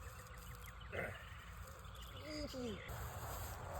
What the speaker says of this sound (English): Get out of here, crickets.